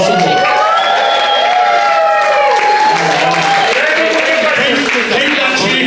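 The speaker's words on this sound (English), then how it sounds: "Give me the loudest cheer possible." Loud audience cheering and whoops fill a live show at a sold-out hotel venue, a dense continuous roar of crowd voices with scattered applause sustained throughout.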